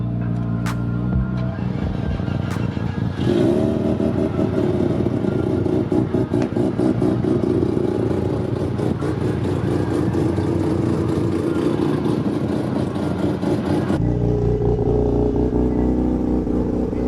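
A bagged 2004 Mazda RX8 running a hybrid 13B rotary with 6-port end plates idles loud and close, then blips and revs repeatedly in a sustained burst before dropping back to a lumpy idle.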